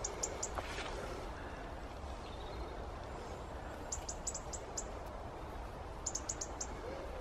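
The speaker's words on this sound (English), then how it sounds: "Birds are singing for us this morning." Morning birdsong in a garden among raspberry and strawberry beds, faint repeated high chirps in short clusters over steady outdoor background noise.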